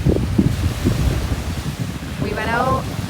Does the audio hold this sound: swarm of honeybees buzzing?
no